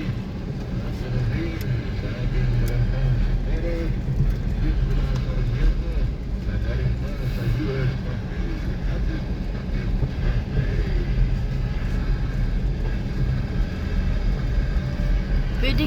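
A car climbing a rough, unpaved road, its engine and tires producing a steady, continuous rumble with scattered bumps and rattles throughout, while people talk over it.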